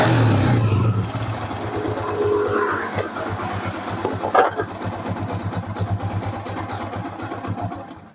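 Yamaha Vixion motorcycle engine fires up with a brief loud start, then settles into a steady close, rhythmic idle putter that runs on alone for several seconds before fading slightly.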